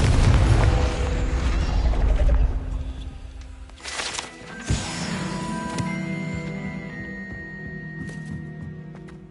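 A Confringo blasting spell in Hogwarts Legacy fires off with a loud, rumbling burst that fades into a lingering mechanical rattle and a few lighter pops and chimes, with no talking.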